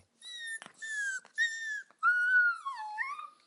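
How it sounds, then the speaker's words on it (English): A puppy whimpers in a series of high, thin whines and squeaks, some rising and falling in pitch, close and alone. "a soft whimper"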